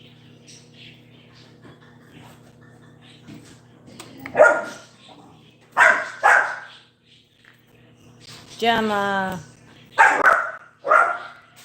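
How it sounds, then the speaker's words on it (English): Pit bull barking indoors in several sharp, loud bursts at separate moments, with someone talking between the barks. "Why do you bark so much?"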